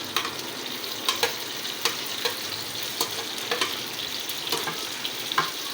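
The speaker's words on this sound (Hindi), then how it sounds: "इसी ऑयल में प्याज डाल दूँगी, ये साबुत रहेंगे।" Whole onions fry in hot oil with a constant close sizzle, broken by regular sharp clicks and pops about every half second.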